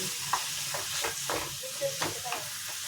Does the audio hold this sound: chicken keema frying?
yes